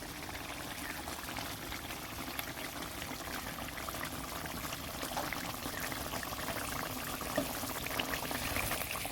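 Oil is drizzled over fried koi fish in a pan, making a steady, continuous pouring and bubbling hiss at close range that holds evenly throughout with no talk.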